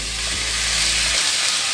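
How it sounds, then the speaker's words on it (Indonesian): Seasoned chicken pieces cook in a pan until they change colour, producing a steady, close sizzle with stirring. A low background hum drops away partway through. "aku hanya matangkan aja sampai ayamnya berubah warna saja"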